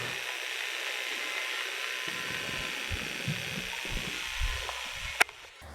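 A Canon PowerShot SX150IS compact camera's zoom motor whirs in a faint, close, steady mechanical drone, ending in a small click.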